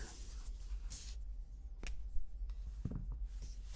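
A scratchy Lamy Studio pen scrapes across paper in short strokes and pauses, close and quiet, with crisp scratching bursts and a few sharper ticks.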